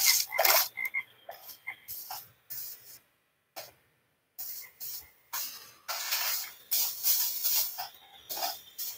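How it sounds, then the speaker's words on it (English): Frogs croak in the Minecraft video game in a series of short, irregular bursts, separated by brief silent gaps and heard fairly close. "Plant the frogs, plant the frogs."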